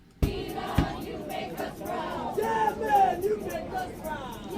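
A protest crowd chants slogans in unison at a pro-theocracy demonstration, many voices rising and falling in rhythmic waves, fairly loud and near, with a couple of sharp bangs at the start.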